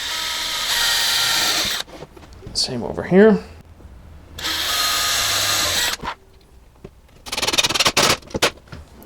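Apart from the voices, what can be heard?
power drill pre-drilling holes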